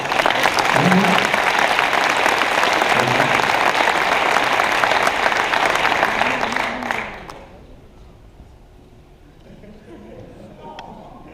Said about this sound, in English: Congratulations, a round of applause.